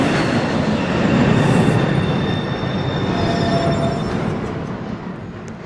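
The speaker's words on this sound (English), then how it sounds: "There is a train approaching track 2." An automated NYC subway train pulls into a Grand Central platform with a loud rumbling roar, faint wheel squeals and rail noise that slowly eases as it arrives.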